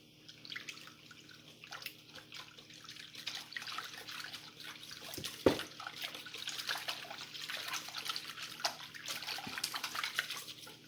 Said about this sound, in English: And I'm going to whisk that.